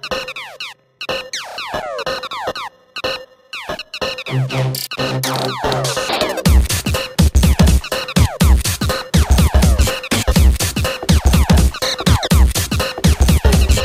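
A music track from the Geometry Dash video game plays loud and dense: choppy glitchy synth notes, then a driving electronic beat with heavy bass pulses and stuttering high tones.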